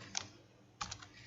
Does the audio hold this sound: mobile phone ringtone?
no